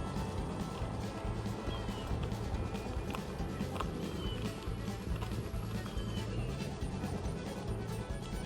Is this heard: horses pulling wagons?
yes